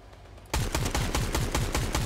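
Rapid gunfire in a shooter video game during a trios match, a burst of sharp repeated shots starting abruptly and continuing steadily, loud and close, with no talk over it.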